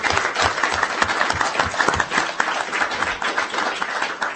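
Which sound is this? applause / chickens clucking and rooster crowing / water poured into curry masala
applause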